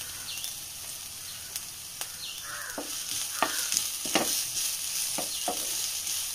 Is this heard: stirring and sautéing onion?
yes